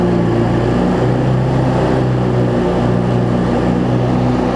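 Cub Cadet zero turn mower with a Briggs V-twin engine running rich, blades engaged, a loud close steady drone with a throbbing low hum and a slight surge in pitch near the start, no talk.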